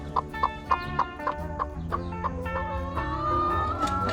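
Chickens clucking close by in a rapid, rhythmic series of short calls, with a longer drawn-out note near the end.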